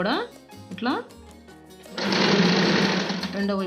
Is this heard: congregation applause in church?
no